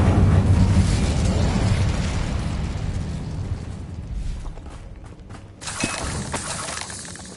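Incendio fire spells blast in the Hogwarts Legacy video game, with a loud roaring eruption of flame and shattering that slowly fades, then another burst flares up near the end.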